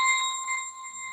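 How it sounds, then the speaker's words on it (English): A phone alert chimes once, a bright ringing electronic tone with steady overtones that rings out and decays over about a second, close and clear during a livestream. "Sorry for my phone making a mess."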